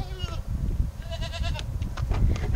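Several goats bleat close by, overlapping wavering cries one after another over a rumbling, noisy background.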